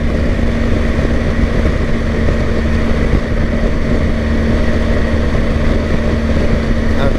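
A BMW R1250 GSA motorcycle cruising in fifth gear at about 73 mph and 4,500 rpm on a highway, a loud, steady engine drone blended with rushing wind noise, unbroken throughout.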